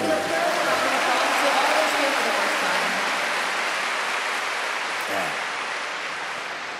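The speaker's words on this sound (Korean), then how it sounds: "우리 처음 오신 분들에게 기도의 박수를 보냅시다" A church convention audience claps for first-time attendees, producing a dense, steady wash of applause that fades slightly over several seconds, heard from within the hall.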